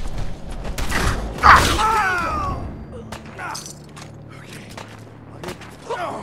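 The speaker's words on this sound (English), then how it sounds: "Heck, where am I getting shot from?" Gunfire rings out in the Fallout 4 video game, with a sharp loud burst followed by scattered pops and clanks, some ringing metallic tones, and sparse quieter shots trailing off.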